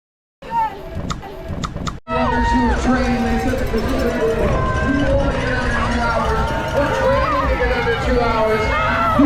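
Runners' footsteps pass at a turkey trot race amid a steady crowd hubbub and chatter, loud and continuous after a brief opening.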